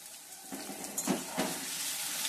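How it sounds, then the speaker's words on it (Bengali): Potatoes coated in turmeric powder fry in a pan, giving a steady soft sizzle with a few louder scraping bursts as they are stirred. "হলুদ গুঁড়ো নিয়ে একটু নেড়ে চেড়ে দেবো আর একটু ভাজা হতে দেবো।"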